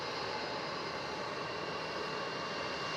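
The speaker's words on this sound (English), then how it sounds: "All right, Turkish A350 900 rolling." A Turkish Airlines Airbus A350-900 jet rolls for takeoff at Melbourne Airport, heard as a steady, distant, broadband roar with no voices.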